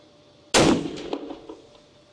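A single loud rifle shot fired at a 100-metre target during a hunters' shooting session, a sharp crack followed by a long rolling echo that fades over about a second and a half.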